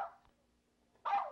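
A small dog gives one short yip, close but faint, after a quiet pause and a brief trailing sound at the start.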